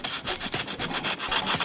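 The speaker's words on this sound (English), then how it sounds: "So what I'm going to do is I'm going to take some old sandpaper," Old 120-grit sandpaper rubbed over MDF, a loud, close, rhythmic rasping in quick back-and-forth strokes, about nine in under two seconds, with no voices.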